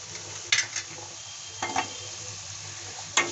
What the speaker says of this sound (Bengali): মশলার সঙ্গে আমি আলুটা একটু ফ্রাই করে নেব।